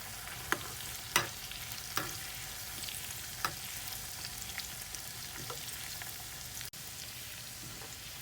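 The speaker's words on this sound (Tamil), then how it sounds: "இதை போட்டு நல்லா ஃப்ரை பண்ணி எடுத்துடலாம்." Cashew nuts fry in a pan for ven pongal, giving a steady, soft sizzle with a few sharp clicks of stirring scattered through. No one speaks.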